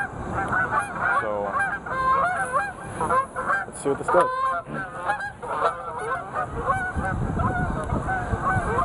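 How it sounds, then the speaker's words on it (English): Many geese honk continuously in a noisy chorus, loud and close, flying over calm water during bass fishing, while someone speaks briefly over them. "I've got geese flying everywhere"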